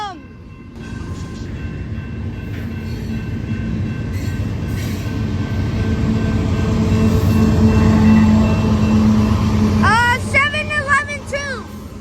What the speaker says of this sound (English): Like this is not even the end of the train, and he already stopped.